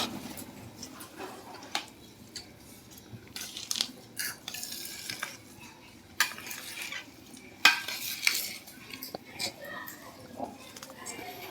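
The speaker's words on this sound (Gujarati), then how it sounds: "હવે આપણે આ બદામી નાખી દઈએ" Almonds are added to a pan of mawa sukhdi and stirred, giving faint scattered clinks and scraping of a utensil against the pan, with a few sharper taps amid quiet room noise.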